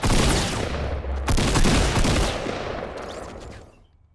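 Video game gunfire: rapid, dense volleys of shots crackle close and loud for several seconds, then fade into a brief tail.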